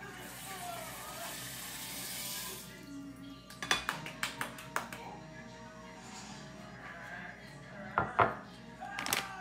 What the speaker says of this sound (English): I'm gonna put that in the blender.